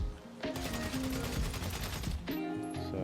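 Blind fire from behind cover in a third-person shooter video game: a loud, sustained automatic burst of game gunfire, rapid and continuous for about two seconds, then a brief pause and another short burst, with no voices.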